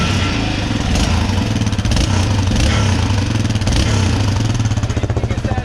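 Motorcycle engine idling steadily and loud up close, its muffler giving a continuous rattling, shaking buzz over the low engine throb, with no voices.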